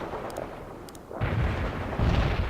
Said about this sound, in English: Our mortar outfit hit.